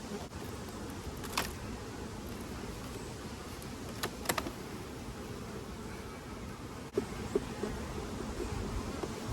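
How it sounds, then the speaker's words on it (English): Honey bees buzz steadily around an opened hive, making a continuous, moderately quiet drone with a few brief clicks and knocks. "There's much less bees than what I thought, so hopefully they haven't swarmed."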